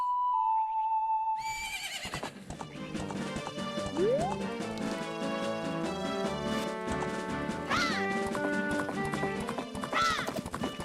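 Hooves clip-clop in a steady run as a horse gallops in The Legend of Zelda: Majora's Mask, with a neigh or two and bright game music over it. It is loud and continuous, with no talk.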